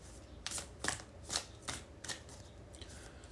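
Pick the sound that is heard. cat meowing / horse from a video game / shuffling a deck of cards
shuffling a deck of cards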